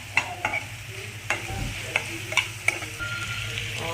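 Soy sauce being stirred into soybean chilli in a hot pan: steady sizzling frying with sharp spoon scrapes and clicks against the pan, close, no voices.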